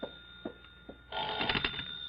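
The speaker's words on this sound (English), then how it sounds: "You'd better answer that phone, hadn't you?" A telephone bell rings several times, each ring a short bright burst. A longer sustained ring follows over a steady faint hum, with no voices.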